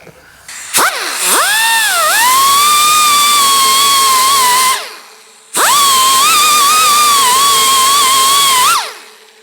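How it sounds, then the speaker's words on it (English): A pneumatic sander works a GTO restomod car door during prep for epoxy primer, whining up to a steady high pitch in two long close bursts with a short pause between. "let's get that sanded up"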